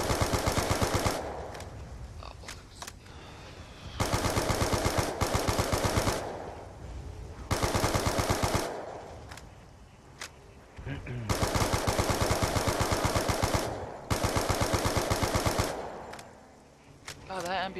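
MP40 submachine gun firing in a zombies video game, several long bursts of rapid automatic fire separated by short pauses, loud and close.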